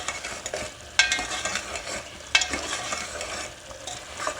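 Beef balti gosht stir-fried in a pot with roasted, crushed cumin: a steady sizzle with a few sharp spoon scrapes and clinks, close and moderately loud, no talking.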